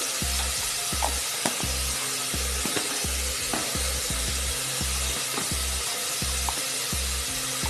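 Ground pepper, cumin and a pinch of turmeric are stirred into a hot frying pan, a constant sizzle broken by regular low scraping strokes of the spoon about twice a second, close and clear without talk.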